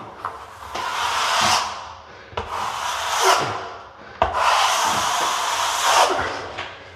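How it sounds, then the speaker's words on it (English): A trowel scrapes across a drying plaster patch on a wall in three long, close, rasping strokes, each swelling and fading, with small knocks between passes. "But you can hear the trowel scraping across it."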